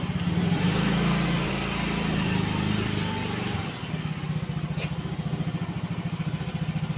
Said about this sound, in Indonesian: Ini dia motor kesayangan saya, Sion.